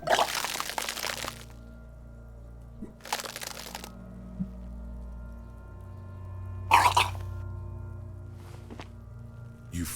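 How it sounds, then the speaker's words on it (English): A character vomits in Disco Elysium: three separate bursts of wet, splattering retching, spaced a few seconds apart, rise above a low, steady ambient drone. "Your body curls and pushes it out, burst by burst, until a pool of vomit lies under your feet"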